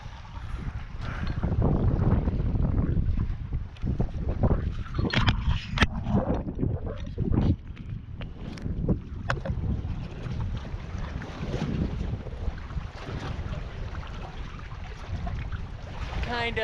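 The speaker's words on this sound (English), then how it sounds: "Oh yeah, sailing Okeechobee." A sailboat on Lake Okeechobee moves through gusty wind, with heavy rumbling wind buffeting, water slapping and creaking rigging throughout, and scattered voices talking in the background.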